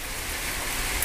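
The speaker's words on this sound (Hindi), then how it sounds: "काफ़ी तेज बारिश हो रही है" Heavy rain pours down on an evening, making a loud, steady, even hiss of water with no break and no voices.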